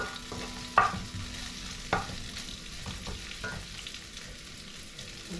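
Garlic sautéing in a pan for laing, a steady soft sizzle of frying with a few sharp clinks and scrapes from stirring, close and alone without talk.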